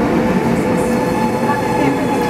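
A double-decker train rumbles steadily at a platform in Amsterdam, with a continuous broadband roar and faint metallic tones, loud and close throughout.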